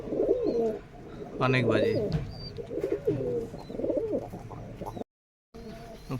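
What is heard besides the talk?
pigeons cooing, Rajshahi Giribaz and Pakistani breeds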